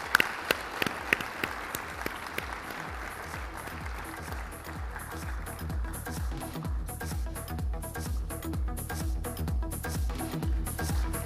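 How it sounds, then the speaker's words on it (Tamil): Audience applause welcoming a speaker to the stage at a conference talk, dense clapping that starts with a few sharp claps and swells into a sustained crowd ovation. "பலத்த கரகோஷத்தோடு"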